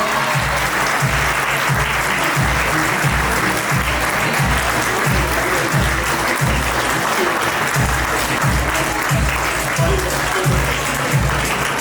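Sustained loud applause from a large audience at a teachers' award ceremony, steady and unbroken clapping filling the whole stretch.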